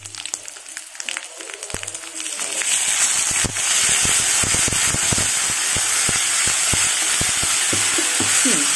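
Dried red chillies frying in hot oil, a steady loud sizzle that swells after a quiet start and is broken by crackling pops and spatters, close up with no talk.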